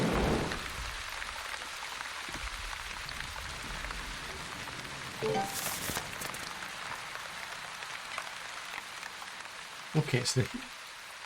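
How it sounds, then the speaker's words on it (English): Steady rain hisses throughout in the video game The Wandering Village, with a few brief clicks and a short burst of speech near the end. "I was extremely lucky getting that rain."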